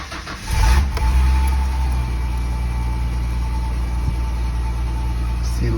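Ford Thunderbird Super Coupe engine cranking and catching with a loud burst, then settling into a steady, close idle hum that continues alone.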